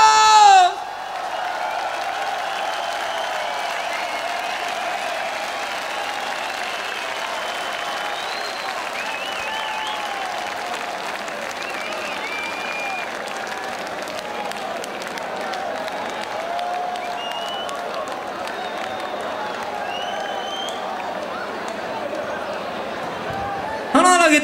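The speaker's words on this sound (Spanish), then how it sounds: "¡Un aplauso para!" Sustained applause and cheering from a large crowd at a rock concert, with whoops and whistles rising over steady clapping for a long stretch.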